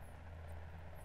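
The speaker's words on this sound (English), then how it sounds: "Ace transport helicopter." Transport helicopter flying in the dinosaur park game Jurassic World Evolution, a steady low rotor and engine drone that holds even and fairly close through the short moment, with no talk over it.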